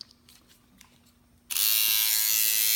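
A Swingliner tattoo machine on its sharper setting switches on after a quiet moment, producing a loud steady high-pitched electric buzz that continues alone to the end.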